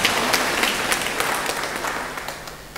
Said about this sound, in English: Can we clap for the choir?